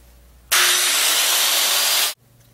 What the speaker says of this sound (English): Now we're ready to cut our hole.